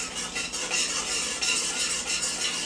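Yeast, sugar and warm water stirred in a bowl, a close, continuous swishing and scraping with light clinks of the utensil against the bowl.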